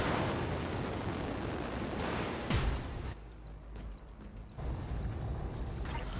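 A mech fires its full weapons salvo in a video game: a loud, dense roar of heavy blasts with a sharp boom midway, then a brief drop before the rumbling fire resumes.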